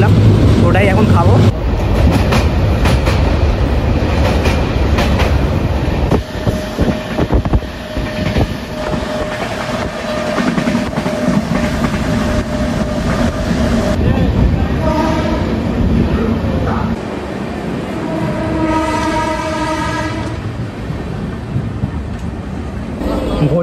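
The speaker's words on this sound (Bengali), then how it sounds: "আমাদের ট্রেন এসে গেছে বর্ধমান জাংশন রেলওয়ে স্টেশনে" A passenger train on the Kolkata to Darjeeling route, near Bardhaman Junction, rumbles loudly and continuously on its rails with dense low clatter, joined near the end by a sustained tonal whine above the steady roar.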